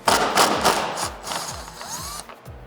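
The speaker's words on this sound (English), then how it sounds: "I'll get those factory bolts out." A hand ratchet removes factory T55 Torx bolts on a Jeep Wrangler JL, giving quick close clicking strokes that slow into a few separate clicks, followed by a short metallic squeak.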